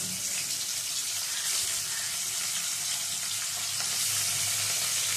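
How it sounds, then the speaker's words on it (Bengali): Marinated chapila fish fry in hot oil in a wok, giving a steady, dense, close sizzle that holds without a break. "প্রত্যেকটা মাছ দিয়ে ভেজে নিতে হবে।"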